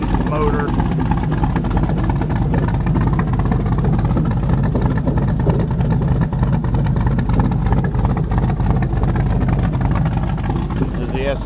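An airboat with a Franklin belt box and a new motor roars loud and steady close by, a continuous engine drone with no letup.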